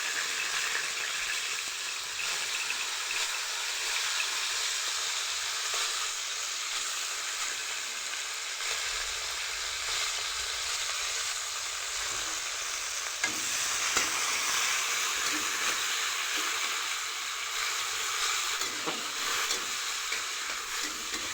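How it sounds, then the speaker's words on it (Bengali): Chopped long beans fry in refined oil with a dense, continuous sizzle and hiss, close and steady throughout, with faint stirring underneath and no voices. "প্রথমেই আমি কিন্তু ভেজে নিচ্ছি কেটে রাখা বরবটিগুলো।"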